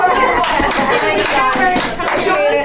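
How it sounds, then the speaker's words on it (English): A crowd claps in steady, dense applause throughout, fairly loud and close, with faint voices mixed in. "Round of applause."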